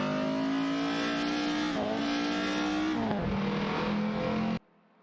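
Alpine A110 race cars in an AI racing game roar continuously with a steady high engine drone, pitch dipping and rising through gear shifts before cutting off abruptly near the end.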